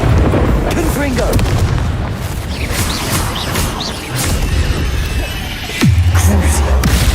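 Confringo fire-blast spells in Hogwarts Legacy go off as a series of heavy booms and crashing bursts amid the rumble of combat, with a loud, deep blast landing near the end and voices calling out in between.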